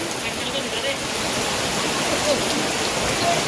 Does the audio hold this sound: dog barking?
no